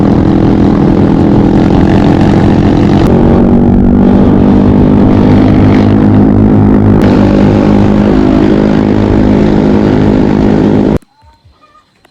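Motorcycles, including a KLX, ride along a road in the Philippines, their engines droning loud and close with a steady roar and shifting pitch before cutting off abruptly near the end.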